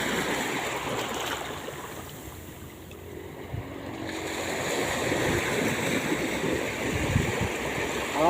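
Strong, fast-flowing river water rushing steadily at close range, a broad continuous roar with a brief dip in the middle before building back up, no voices.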